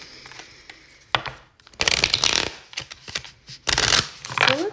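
A deck of tarot cards is shuffled in several quick riffling bursts separated by short pauses, close and crisp with rustling and light tapping between.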